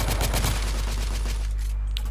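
Dense bursts of rapid gunfire in the video game The Order: 1886, loud and continuous at first, thinning out toward the end, with a steady low rumble beneath.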